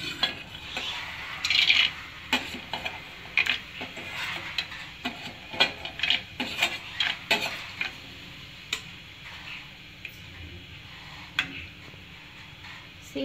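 Peanuts frying in hot oil for poha chivda, stirred with light clicking and scraping taps against the pan over a soft sizzle, irregular and close throughout.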